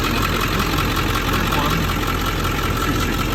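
Ford 7.3 Powerstroke diesel engine idles close by, a dense, steady rumble and clatter with no change in pace throughout.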